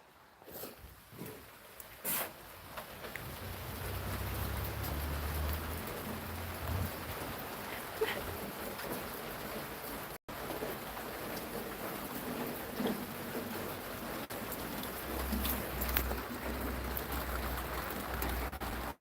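Steady rain patters and hisses outdoors in a garden, a continuous wash of drops with a few scattered handling knocks and rustles nearby.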